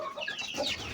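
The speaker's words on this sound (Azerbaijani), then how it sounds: "İndişkalarımız da, cücələrimiz də buradadır." A farmyard flock of chickens with turkeys and chicks gives a quick, close burst of overlapping clucks and chirps.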